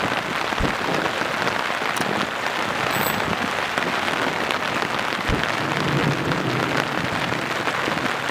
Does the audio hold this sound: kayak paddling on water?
no